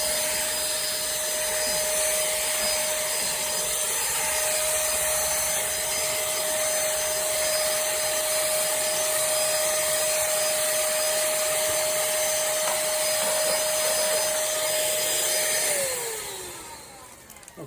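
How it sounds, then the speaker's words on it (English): A Pemacom cordless handheld vacuum cleaner runs with a steady, high motor whine and airy rush close up, holding for many seconds before it winds down and cuts off near the end. "And it sweeps as it vacuums."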